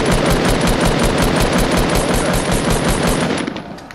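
Rapid automatic gunfire from a squads scrim match in a video game, loud and nearly continuous bursts of shots that keep a steady rattling rhythm before easing off toward the end.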